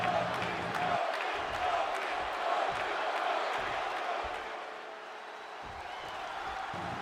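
Arena crowd in the WWE 2K25 wrestling video game cheering steadily, a broad continuous roar with occasional whoops and louder swells, staying busy throughout without a break.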